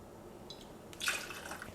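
Coffee liqueur pours briefly into a mixing glass for a pumpkin spice latte cocktail, a faint, short liquid trickle and splash lasting under a second.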